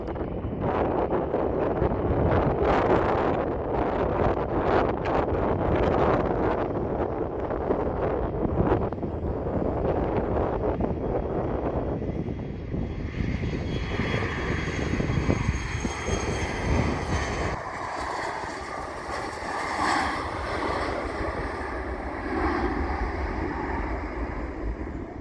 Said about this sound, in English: Here we have a Loganair flight departing from runway 16